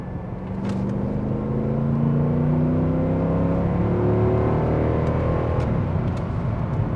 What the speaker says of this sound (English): And just like that, effortlessly, you go from 30 to 60 in no time.